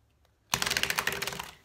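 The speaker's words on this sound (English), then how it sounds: "That's a good shuffle." Tarot deck being shuffled by hand, a sudden burst of rapid crisp card riffling that rattles on for about a second before fading, close and alone.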